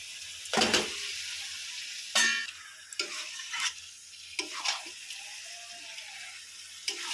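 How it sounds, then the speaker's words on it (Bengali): Meat poured into fried spice paste in a pot, with a sudden splashing drop, then bursts of sizzling and stirring scrapes in irregular spurts, close by. "আমি এই এই পর্যায়ে মাংসটা ঢেলে দিচ্ছি"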